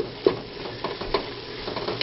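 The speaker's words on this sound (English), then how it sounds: "we see our meat's up and boiling again." Meat for chili boiling in a pot, a soft steady bubbling simmer broken by a couple of sharper pops, heard close and fairly quiet with no talking.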